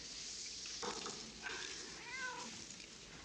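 A cat meows faintly a couple of times, the wavering calls rising over a steady low background hiss.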